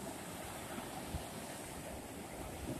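Ocean waves break on an open beach only a few feet away, a steady, loud broadband wash of surf with low rumbling surges and no voices.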